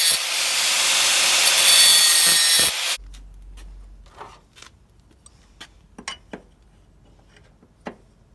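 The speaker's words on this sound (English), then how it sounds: "cut-off wheels are for cutting, not for grinding." Cut-off wheel slicing through metal during a Chevrolet S-10 door hinge repair, a loud sustained high grinding whine for about three seconds that stops abruptly, followed by faint scattered clicks and taps.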